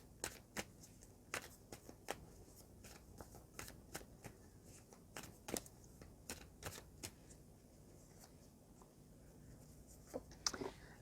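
A deck of animal spirit cards is shuffled by hand, giving quick, dry riffling and flicking bursts that repeat steadily and fairly close, with no talking over them.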